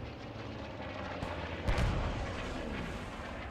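A bomb from a commander's bombing run in the World War II shooter Post Scriptum bursts with a heavy, booming low rumble partway through, rising briefly over a constant backdrop of distant battle noise.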